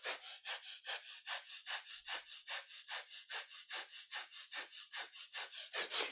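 Breath of fire in a kundalini yoga session: a quick, even run of about twenty-five sharp nasal exhalations, each a breathy puff, close and alone.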